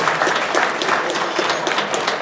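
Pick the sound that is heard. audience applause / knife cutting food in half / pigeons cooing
audience applause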